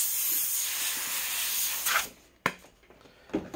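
Airbrush spraying paint onto a t-shirt, a steady close hiss of air that cuts off after about two seconds, followed by short spurts of spray and faint handling taps.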